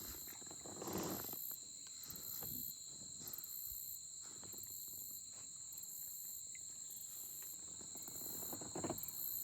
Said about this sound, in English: Here are the tree frogs and the birds.